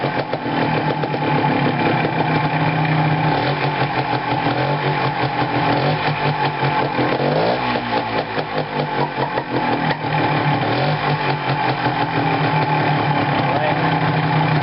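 A loud, steady engine running continuously with a throaty, buzzing exhaust note through a silencer made from a short piece of tube, close up and unbroken throughout.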